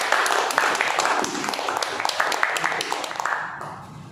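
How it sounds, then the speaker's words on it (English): Audience applause at a Toastmasters club offline meeting, steady dense clapping from a seated group that continues for several seconds and fades near the end. "Put a round of applause for Toastmaster."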